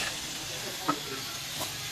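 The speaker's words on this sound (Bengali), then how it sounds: "সকালের নাস্তার জন্য এখানে রুটি ভাজা হইতেছে" Roti flatbread frying in a pan for breakfast in a home kitchen gives a soft, steady sizzling hiss with a faint clink about midway, quiet and close.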